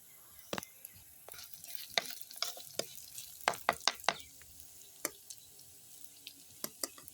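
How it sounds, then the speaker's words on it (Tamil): Cut pieces of shark fish sautéed in a pan for a curry: brisk sizzling under repeated sharp scraping stirs and clicks of a spatula, close and irregular, with no talking. "மீனை போட்டு வதக்கி எடுப்போம்."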